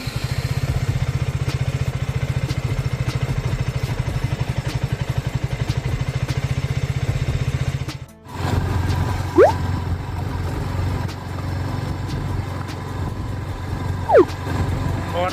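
A motorcycle engine after a cold start settles into a steady, loud, close idle with a rapid even chug, briefly cut off midway before resuming, with faint clatter around it.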